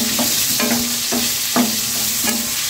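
Boiled potatoes and tomato fry on high flame in a steady loud sizzle, while a spoon scrapes and stirs the pan in a regular rhythm of about four strokes, close up with no voices.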